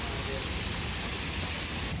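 Heavy rain mixed with hail pours down in London, Ontario, on Kipps Lane, a dense, steady roar of drops drumming on surfaces close by, continuous throughout.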